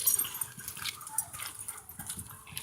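Puppies whimper and fuss softly at close range, a run of faint, uneven little cries over low background noise.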